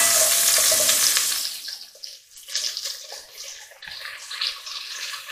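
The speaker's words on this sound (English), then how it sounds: "So, I said add the carrots to the bacon fat and saute until they are softened." Carrots sauté in bacon fat, with a loud hissing sizzle at first that drops away, followed by scattered softer crackles and stirring clatter.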